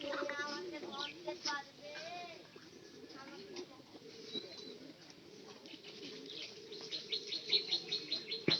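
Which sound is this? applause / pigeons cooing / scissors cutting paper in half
pigeons cooing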